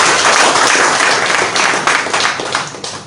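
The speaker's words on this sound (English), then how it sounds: "Another round of applause for our dynamic commanding officer." A crowd at a military hospital ceremony where donated medical items are handed over applauds the commanding officer, a loud, dense burst of clapping close by that gradually thins and fades.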